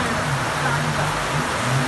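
A car pushes through flash-flood water during heavy rain, a steady loud wash of rain and splashing with a low engine hum underneath, continuous throughout.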